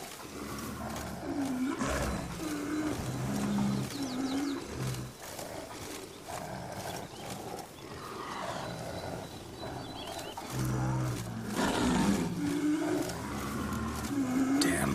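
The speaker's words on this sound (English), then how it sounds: "Hear that? Panthers." Panthers roaring in The Witcher 3, several deep growling roars at intervals over a continuous wilderness ambience, moderately distant, with faint birds and low background noise.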